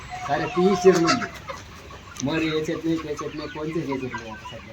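Chickens on a poultry farm cluck and chatter in two bursts separated by a short pause, close by, with a person's voice mixed into the flock noise.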